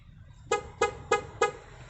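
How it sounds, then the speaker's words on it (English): A Honda S2000 alarm, armed with a door left ajar, sounds four short, evenly spaced chirps in quick succession over a quiet background. "If he leaves the door slightly ajar, he will actually get a door ajar warning."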